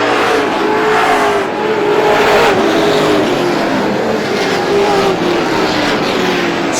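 Race cars lapping Star Speedway during the GSPSS 100, a loud, close, sustained pack of engines droning and whining through the turns, with a commentator's voice faintly beneath the roar.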